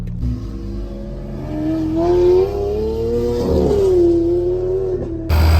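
A Lamborghini Aventador on the move, its engine droning loud and close inside the cabin, the pitch rising and falling steadily as it drives along, with no talk.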